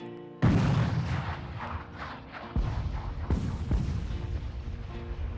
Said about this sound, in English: They turn the guns toward the enemy, emplace new ones, and open fire.